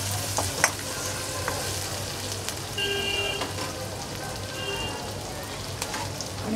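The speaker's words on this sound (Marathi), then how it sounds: "मिरची घालायची याच्यात," Chillies sautéing in a pan for chilli paneer masala, a continuous crackling sizzle with occasional spoon scrapes and light knocks against the pan as they are stirred.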